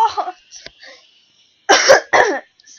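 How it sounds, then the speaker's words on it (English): Two harsh, close coughs in quick succession from a person, following a few faint breathy mouth sounds and a short quiet pause. "Sorry about my cough, I'm so sorry."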